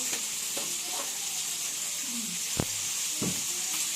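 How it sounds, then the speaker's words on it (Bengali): An egg frying in a pan in a home kitchen, with a steady broadband sizzle throughout and a few sharp clicks and scrapes, no talking. "এই ডিমের ঝোল হবে, ডিমটা ভাজা হচ্ছে।"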